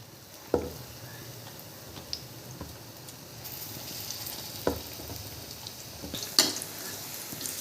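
Batata vada potato balls fry in hot oil with a soft, steady sizzle, broken by a few sharp clinks and taps from a utensil against the pan, with no one speaking.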